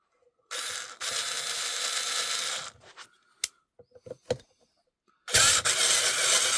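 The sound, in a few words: screwing a screw back into a Kirby Sentria vacuum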